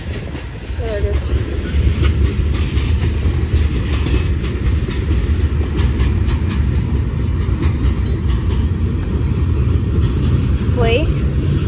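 A freight train of boxcars rolls steadily past close by, a continuous loud rumble with faint rail squeals, and a person speaks briefly over it.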